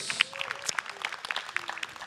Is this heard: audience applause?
yes